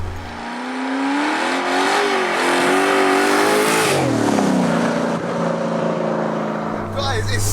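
A 50-year-old left-hand-drive farm truck, built as a sleeper, revs hard while driving, its engine note climbing and falling loudly and close throughout.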